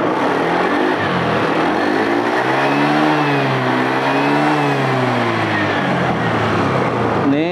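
A car engine is revved hard and held at high speed, steady and close. The pitch rises, sags slightly and rises again, with no speech over it.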